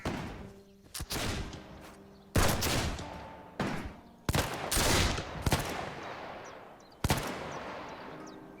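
Musket volleys crack out in the black-powder battle game Between Empires, several sharp, loud shots and ragged fusillades with echoing tails, some overlapping, spaced irregularly across the span.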